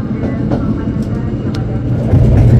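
The Argo Merbabu night train, departing from Tawang, rolls past with a loud, steady rumble and rhythmic rail clatter that grows heavier toward the end, heard from aboard another train with a voice speaking.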